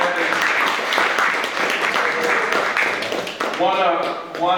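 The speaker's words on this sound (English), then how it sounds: "Let's give Miss Rags a round of applause." Audience applause at a fundraiser reception for a STEM center, steady clapping from a crowd with voices and cheers mixed in, and a person speaking near the end.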